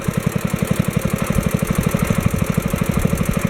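Kohler engine on a Wheel Horse 704 tractor runs steadily with the throttle and choke wide open, a close, loud, evenly pulsing idle thump with a regular knocking beat throughout, no talk.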